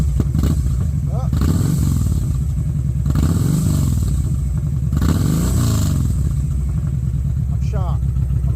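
A motorcycle fitted with a Cobra exhaust in place of the factory one revs in repeated rising and falling bursts, loud and close, while a person talks over the engine.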